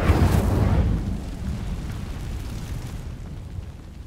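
An Incendio fire spell igniting dry vines in Hogwarts Legacy, a loud fiery burst and rumbling whoosh at the start that settles into a lower crackling burn and fades.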